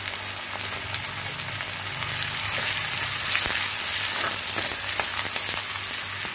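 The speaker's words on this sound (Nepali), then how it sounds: "अनि यो प्याज चाहिँ हल्का गोल्डन ब्राउन भएसम्म म भुट्छु" Sliced onion fries in a hot pan in a home kitchen. The steady hissing sizzle goes on throughout with faint crackles, close and unbroken, and no one speaks over it.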